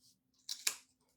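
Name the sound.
scissors cutting through thick twine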